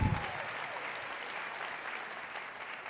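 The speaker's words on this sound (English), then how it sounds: "One more time. Round of applause." Steady audience applause filling a large hall at the 2019 SHPE National Convention general meeting, a dense, even wash of many hands clapping with a brief voice at the very start.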